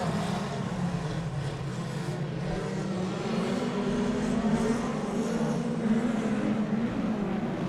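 Midget race cars racing on opening night at Oceanview, a continuous loud engine drone that holds steady with slight rises and falls as the pack circles, with no clear passes standing out.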